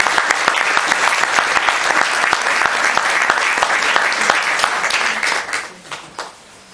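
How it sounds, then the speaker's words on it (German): Loud audience applause at a lecture, many hands clapping in a crisp, steady patter that tapers off quickly near the end. "ein Applaus an Heidi"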